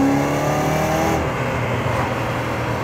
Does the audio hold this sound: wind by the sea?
no